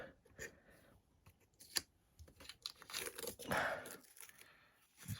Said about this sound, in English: So in theory, we have to take off this tape.